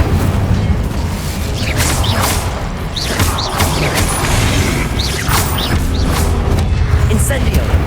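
Incendio fire spell cast in the video game Hogwarts Legacy, heard as continuous booming rumble with repeated whooshing, crackling bursts and clashing impacts, close and loud, with a voice speaking over the din.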